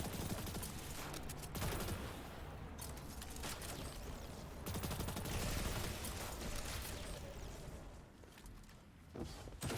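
Faint, distant sniper fire in an online shooter game: a steady, dense crackle of repeated shots and clatter that continues without a break.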